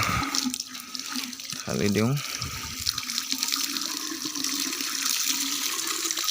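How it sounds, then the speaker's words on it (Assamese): Water pours steadily into a metal water-heating pot, a continuous close splashing rush that runs the whole time, with a brief voice cutting in partway. "ইয়াত আমি পানী ঢালি দিওঁ।"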